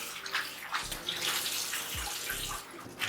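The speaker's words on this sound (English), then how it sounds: "Run cold water on it so it becomes cold." Cold tap water pours steadily over freshly cooked pasta in a kitchen sink while cooling it down, a close, continuous rush of running water with a few low splashes and no talking.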